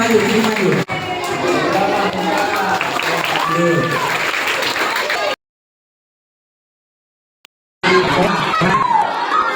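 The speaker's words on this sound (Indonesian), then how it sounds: "boleh tepuk tangannya dulu" Schoolchildren at a school assembly on stopping bullying break into lively clapping mixed with chatter and shouts, the noisy crowd cutting to silence partway through and then resuming.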